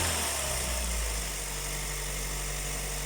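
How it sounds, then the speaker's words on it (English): A Vauxhall Corsa engine idles close by with a steady low hum and slight vibration, its tone easing a little early on before settling, with no talking. "The idling shouldn't be fluctuating at all."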